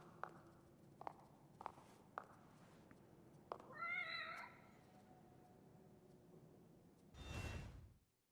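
A cat meows in The Evil Within, one short wavering cry after a few soft footsteps, followed later by a low whooshing rush, all fairly quiet.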